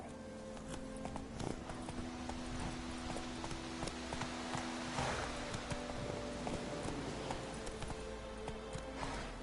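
Hooves of the horse Roach in The Witcher 3 clip-clop in a steady galloping rhythm, close and continuous, with faint ambient game sound underneath.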